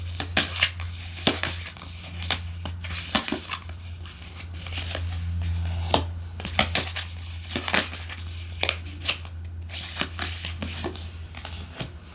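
Tarot cards are shuffled and drawn close up, with repeated crisp riffling bursts and soft slaps of cards landing, separated by brief pauses.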